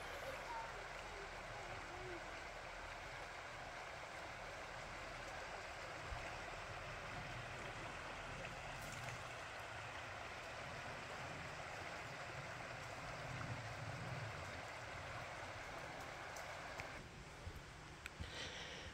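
A creek runs past a tent site in Metzler Park, producing a soft, steady, even rush of flowing water that continues throughout, with faint voices at times.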